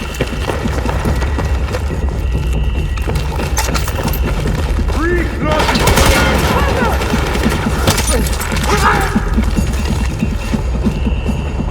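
Massed gunfire crackles steadily through a Battlefield 6 battle, a dense rattle of shots that swells in the middle, with shouted voices mixed in.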